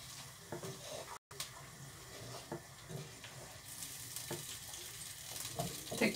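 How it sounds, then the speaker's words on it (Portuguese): Eggs and bacon fry in a pan while a farofa is being made, giving a steady close sizzle with soft stirring scrapes and a brief dropout early on. "Agora tem que se deixar fritar mais ou menos os ovos."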